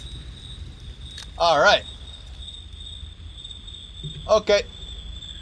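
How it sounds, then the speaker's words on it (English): Crickets chirp with a continuous high, steady trill in the Baldi's Basics Field Trip game, while a person speaks briefly twice over it. "You hear those crickets?"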